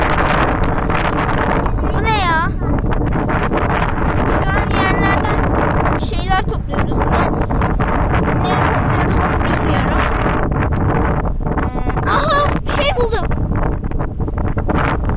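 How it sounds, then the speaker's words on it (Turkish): Heavy wind on a beach roars constantly against the microphone while people talk loudly throughout, voices partly buried under the blustery rumble. "Çok kötü rüzgar esiyor şu an."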